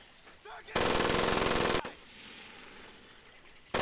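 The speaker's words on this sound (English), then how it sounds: "Heavy machine gun." A heavy machine gun in Medal of Honor Pacific Assault fires one loud, close burst of about a second, followed by quieter background ambience and the start of another burst.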